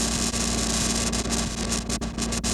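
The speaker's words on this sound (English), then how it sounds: "these decide the hiss, these decide the mechanical noise" Generation Loss MKII tape-emulation pedal adding hiss and mechanical noise: a steady, loud wash of static hiss over a low mains-like hum, continuous for the whole stretch with a few brief dips, no voices.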